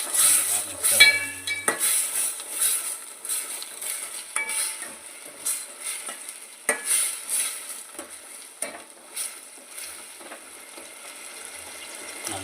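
Chilli gobi, cauliflower in a sauce, is stirred in a frying pan with a utensil scraping and clinking against the metal, repeated irregularly over a soft, continuous sizzle, close and fairly quiet.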